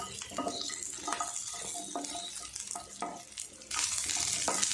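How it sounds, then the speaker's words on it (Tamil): Small onions sauté in a pan as the first step of a tomato chutney. A steady oil sizzle runs under repeated spoon scrapes and stirring knocks against the pan, and the sizzle swells louder near the end. "வெங்காயத்தை லைட்டாக வதக்கிக்கலாம்."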